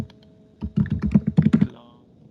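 Fingers type text on a computer keyboard while entering words in an MS Office document: a quick run of about a dozen close, clattering keystrokes in an uneven rhythm, then quiet, with no voices.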